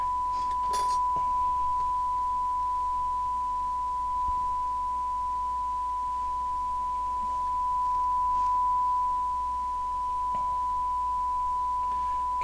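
A steady pure 1,000 Hz test tone through a Realistic Model 31-2000A graphic equalizer holds at one pitch throughout, continuous and unwavering over faint background hiss, with a few light clicks near the start.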